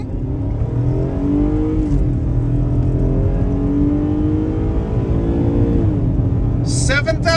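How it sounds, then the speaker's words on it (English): A V6 all-wheel-drive crossover accelerates hard, its engine note climbing steadily in pitch through the gears with brief dips at each shift, loud and close from inside the cabin. "Let's do a little acceleration and see what happens."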